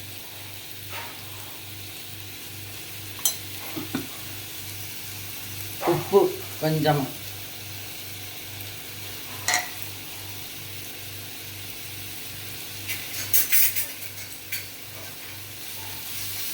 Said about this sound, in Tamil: எண்ணெய் காஞ்சோடனே கேரட்டை போட்டு நல்லா வதக்கணும்.